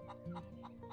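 Chicken clucking from the anime Fate/Zero, a few short clucks in a quick burst, moderately loud over a steady background tone.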